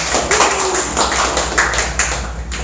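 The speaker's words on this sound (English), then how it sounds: "Let's give a big round of applause to Mr." A small classroom group clapping for a presenter after a report, sparse hand claps at an uneven rhythm, fairly close and fairly loud, with no talking over them.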